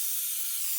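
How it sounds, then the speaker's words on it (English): Oil spray is misted onto a baking pan in one short, steady hiss close to the microphone. "So I got to use the oil spray."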